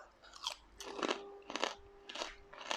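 Crunchy Yada Boon pork rinds being chewed up close, with about five sharp, crackling crunches in a steady rhythm and no talking.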